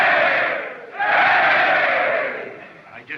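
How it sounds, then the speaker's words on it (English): A large crowd roars and cheers loudly, the din dipping briefly and then surging back to a sustained swell before tapering off near the end; the setting is a 1930 film. "give the one the great big cheer"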